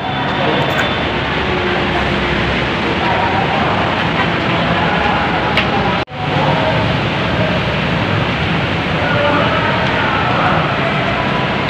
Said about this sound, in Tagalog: ito guys ang MRT, North Avenue